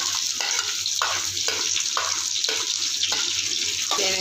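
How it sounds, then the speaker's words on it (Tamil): Onions frying in oil with dried red chillies, fennel seeds and curry leaves for a chicken curry: a steady close sizzle broken by regular stirring scrapes roughly every half second. "வெங்காயம் நல்லா எண்ணெயில் வதங்கட்டும்"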